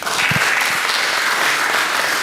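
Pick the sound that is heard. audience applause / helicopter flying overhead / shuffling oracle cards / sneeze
audience applause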